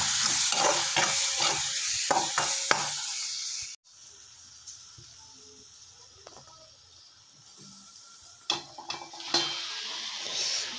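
A spoon stirs atta (whole-wheat) pasta with masala in a hot pan, giving a sharp frying sizzle with a few scraping strokes, then a sudden drop to a quieter hiss broken by further clattering stirs near the end.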